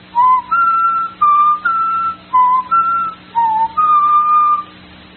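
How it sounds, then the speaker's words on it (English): Someone whistles a short tune of clear, separate notes, some held longer, loud and close with brief gaps between phrases. "Let me see if I can whistle those notes written in the musical theme."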